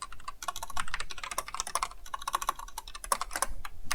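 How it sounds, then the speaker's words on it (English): Fast, uneven typing on a computer keyboard fills the whole clip, dense clattering keystrokes heard up close with no talking. "So you can see in thrilling real time how I have never taken a typing course in my life"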